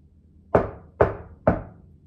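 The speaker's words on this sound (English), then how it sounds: "He knocked." Three firm knocks on a large wooden door, evenly spaced about half a second apart, each a sharp close thud with a short decay, heard alone in a quiet room.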